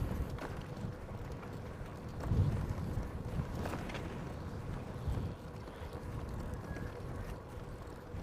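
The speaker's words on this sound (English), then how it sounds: "a little breezy" A breezy wind buffets the microphone in a steady low rumble during an outdoor bike tour on a farm access path in South Korea, with no talk.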